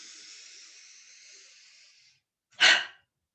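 Deep breath in during a calming breathing exercise, a soft, long airy inhale lasting about two seconds, then a short, sharper exhale after a brief pause.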